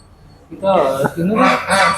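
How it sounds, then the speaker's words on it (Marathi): Geese or swans honking near a temple, with a few loud, harsh calls close by in the second half of the clip after a quiet start. "एक तर इथेच आहे आपल्याजवळ आवाज करून राहिला दोन आणि तीन याला हंसच म्हणता ना"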